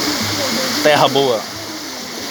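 Waterfall at Ladeira da Lapa in São Benedito, Ceará, a steady close rush of falling water running beneath a man's brief speech.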